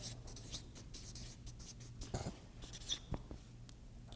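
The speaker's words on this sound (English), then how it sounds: "let me write this down" A pen writing notes on paper, soft close scratching strokes in short irregular bursts with brief pauses, faint and quiet with no talking.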